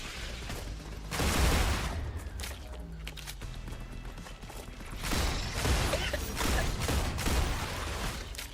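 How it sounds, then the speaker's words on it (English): Weapon magazines being swapped during a reload in the sci-fi game StarRupture, a run of metallic clicks, clacks and ratcheting mechanisms with a few sharp bursts, close and fairly loud with no voice. "Changing mags."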